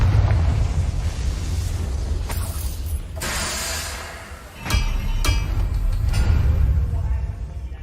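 A Confringo spell explodes in Hogwarts Legacy with a deep rumbling blast, followed by crackling debris and sharp shattering bursts. A low roar persists underneath the whole time.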